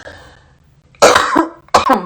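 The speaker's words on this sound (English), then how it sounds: "Gotta clear my throat." Two short, harsh throat-clearing bursts, close and fairly loud, separated by a brief pause after a quiet stretch of faint background sound.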